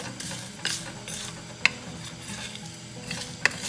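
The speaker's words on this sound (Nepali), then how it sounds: "अब म यो खुर्सानीलाई पनि एड गर्नेछु अनि अलिअलि भुट्नेछु" Dried chillies fry in a browned spice mix for Nepali chicken tite curry, giving a steady close sizzle broken by stirring scrapes and a few sharp utensil clinks against the pan.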